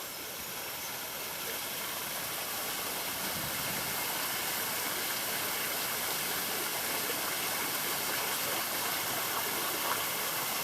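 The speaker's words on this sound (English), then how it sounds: "see a picture of what Turtle Falls look like" Turtle Falls waterfall at Faulconbridge in the Blue Mountains, a steady broadband rush of falling water that holds an even, close and fairly loud level throughout, with no voices.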